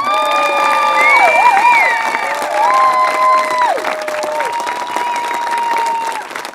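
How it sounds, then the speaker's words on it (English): Applause, cheering and children's shouts at the inaugural ceremony of a camp, a loud, lively crowd clapping steadily with high whoops and yells rising over it before easing off. "So we all have a big round of applause to put forward to Heidi and her husband, Tom Weiser."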